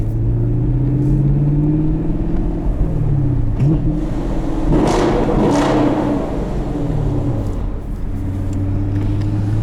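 A 2017 Chevrolet Camaro SS V8 engine with a manual gearbox revs hard, rising to a loud roar mid-clip then settling back to a deep, rumbling idle, close and continuous.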